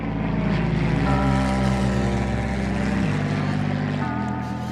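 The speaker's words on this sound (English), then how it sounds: "I fly the mail plane" A propeller mail plane based in Alice Springs drones loudly and steadily in flight, its engine tone holding constant with slight pitch shifts throughout.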